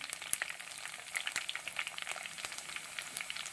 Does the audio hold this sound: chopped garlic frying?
yes